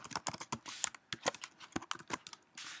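Quiet, quick keystrokes on a computer keyboard rattle in an uneven burst as JavaScript code is typed, heard alone and close.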